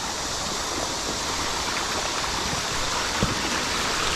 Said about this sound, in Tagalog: Malakas ang agos pala.